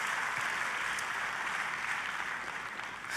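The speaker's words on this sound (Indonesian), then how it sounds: "Tepuk tangannya boleh yang paling meriah buat Tuhan kita" A church congregation applauds during a sermon, a continuous wash of many hands clapping at once, even and sustained, heard slightly at a distance.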